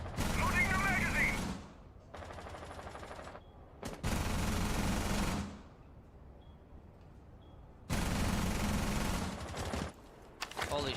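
Automatic gunfire from a kicking gun in Rainbow Six Siege comes in loud sustained bursts: one at the start, another from about four to five and a half seconds, and a third near eight seconds, separated by quieter gaps.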